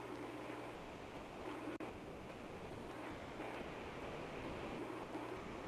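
Bigger winter-style waves strike a beach in a continuous, broad roar of surf and wash with no distinct pauses, and a single sharp click partway through.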